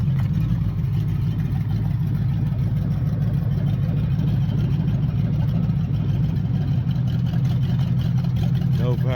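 A 1969 Chrysler 300 street machine, just revived after neglect and without power steering, drives slowly with a steady, loud low engine rumble throughout while people talk over it.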